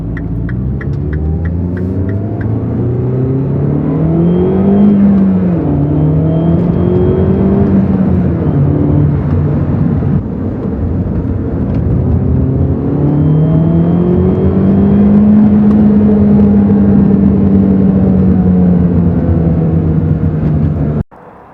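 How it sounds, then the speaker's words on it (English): A Mini Cooper S R56 with a turbo muffler delete drives steadily, its engine droning loud and close with a throbbing hum that rises and falls as it accelerates and settles, alone without talk. "So I'll take it out for a drive real quick and we'll see how it goes."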